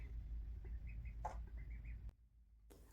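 Pet birds, likely chickens, give soft clucking calls with a brief flurry of movement, close by over a steady low rumble that drops away near the end.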